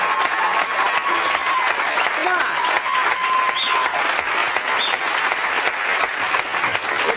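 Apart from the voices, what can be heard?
studio audience round of applause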